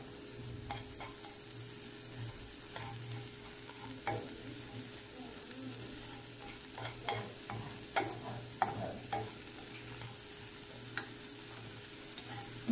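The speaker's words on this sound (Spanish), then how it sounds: "Voy a agregar un poquito de aceite en esta sartén para sofreír un tercio de cebolla" Chopped onion frying in oil in a pan, a steady quiet sizzle under a faint constant hum, with scattered light clicks and taps from stirring that grow a little more frequent toward the end.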